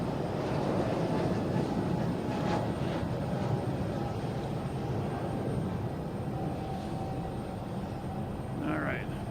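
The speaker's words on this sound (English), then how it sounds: "There's the American 777. Floating in." An American Airlines Boeing 777 comes in to land at Boston Logan, a steady broad jet roar that holds through at moderate distance, with voices talking nearby.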